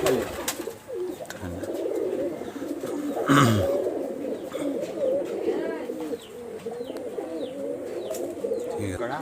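Rajshahi highflyer pigeons coo in soft, repeated throaty phrases close by, with other birds chirping faintly and a brief rustle or knock partway through.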